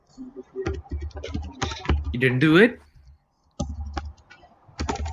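Typing on a computer keyboard, bursts of quick close clicks and taps broken by short pauses, heard under and between people talking.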